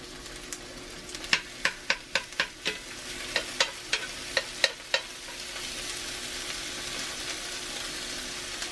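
Corned beef hash and potatoes fry side by side in a cast iron skillet with a steady sizzle, while a utensil clacks against the pan about a dozen times in quick taps before the frying carries on alone.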